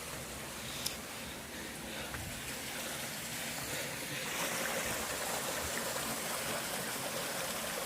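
Water runs over small rocks at Kuliraatti Falls in Saptur Vazhaithoppu, a steady, close rushing and trickling that persists evenly throughout and builds slightly toward the end.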